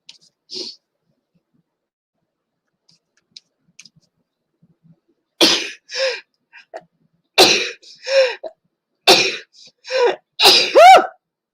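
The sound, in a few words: sneezes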